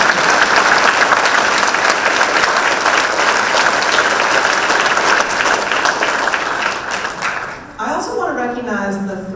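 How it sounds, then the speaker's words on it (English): Sustained audience applause fills a State of the City address, loud and dense clapping that carries on for most of the stretch before easing near the end as a voice begins. "Give a big round of applause."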